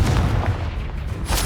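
Confringo fire spell exploding in Hogwarts Legacy, a close, heavy booming blast with a dull rumbling tail and a sharper burst near the end.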